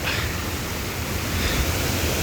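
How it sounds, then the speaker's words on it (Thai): Mo Paeng waterfall roaring at its head, a steady, dense rush of falling water filling the scene at close range with no break. "หัวน้ำตกเลยฮะ แหล่งน้ำเนาะน้ำตกหมอแปง"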